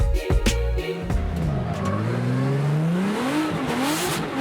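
An E46 BMW drift car on BC Racing GT Radial tires revs hard at a Formula Drift event in Texas, its engine note rising and falling under a long loud tire squeal at steady close range.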